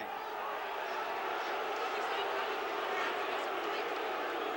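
Steady roar of a boxing arena crowd during the Jeff Fenech versus Carlos Zarate fight, a dense continuous murmur and shouting from many people, loud and unbroken throughout.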